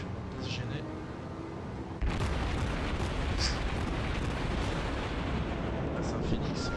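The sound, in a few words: naval shells exploding in World of Warships video game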